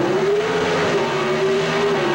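Drag racing cars, including a Chevy Camaro, roar down the strip in a 1979 race, a sustained loud engine whine with a slowly shifting pitch carrying on without pause.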